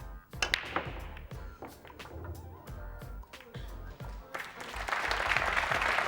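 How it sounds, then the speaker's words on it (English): Crowd at a 1996 Mosconi Cup pool match claps and cheers in uneven bursts, sharp individual claps over a swelling roar that builds louder toward the end. "Just listen to that crowd."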